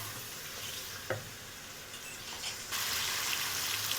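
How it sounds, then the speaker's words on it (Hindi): Chicken fries in a pan for a garlic ginger chicken recipe, a soft, steady sizzle with a light clack of stirring, and the sizzle grows louder and brighter partway through. "अब हम इसको तब तक फ्राई कर लेंगे जब तक ये गोल्डन नहीं हो जाता।"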